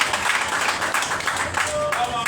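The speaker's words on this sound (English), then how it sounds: "Please give me a hand of applause." An audience at a public gathering gives a short burst of dense, steady applause, many hands clapping together close by throughout.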